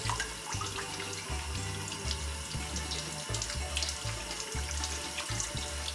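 Running tap water splashes steadily into a sink while an octopus is rinsed under it, a close, continuous gush with small shifts as the flow hits the flesh.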